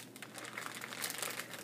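A small plastic bag, about to serve as a trash bag, crinkles and rustles continuously in close, dense bursts of sharp crackling.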